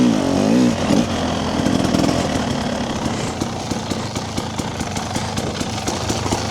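A fuel-injected (TBI) motorcycle fitted with a TSP ERM idles and runs close by, a steady, rapid mechanical chugging with a slight rev at the start, then an even, crisp putter throughout.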